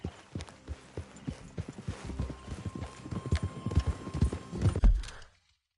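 Horse hooves clip-clopping at a ride in Red Dead Redemption 2, a steady rhythmic run of close hoofbeats with a brief whinny, growing louder toward the end before stopping abruptly.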